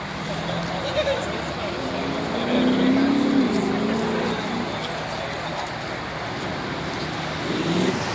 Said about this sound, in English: And another Porsche. Gotta love that sound.